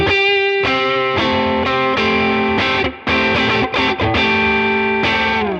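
An electric guitar plays a string of chords through a Neural DSP Tone King Imperial MKII amp plugin on the edge of breakup, a crunchy, gritty tone, each hard-picked strum ringing with mild distortion.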